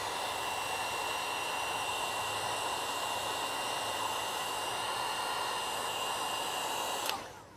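A heat gun blows a steady, loud airy roar while heating vinyl wrap on a Tesla Model 3 Highland rocker panel, then cuts off abruptly near the end.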